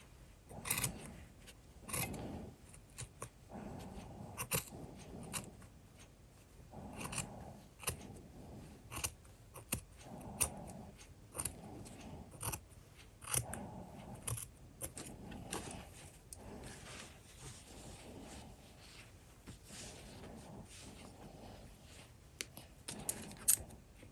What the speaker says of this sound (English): I cut it in a little bit so I can sew it on. So it's not too thick